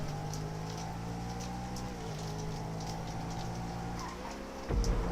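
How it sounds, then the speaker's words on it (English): Rain falls in the Grand Theft Auto 5 video game, a soft steady patter of drops over a low engine-like hum, faint and even, ending in a brief louder bump. "Raining."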